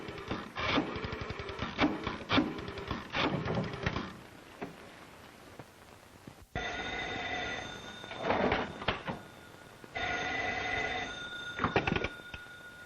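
An old telephone rings in bursts after the number Pembroke 8146 is dialed, the bell sounding in repeated rattling trills separated by pauses, with some clicks and handling noises between rings.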